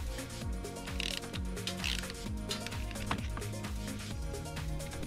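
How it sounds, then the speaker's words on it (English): A ratchet wrench with a 14mm socket loosens the lower shock pinch bolts on a motorcycle fork, making rapid, loud mechanical clicking in continuous close bursts. "Using a 14mm socket, loosen the lower shock pinch bolts."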